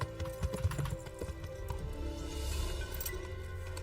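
Horse hooves in Kingdom Come: Deliverance, a quick run of clip-clop steps at the start that fades under ambient game music and sound.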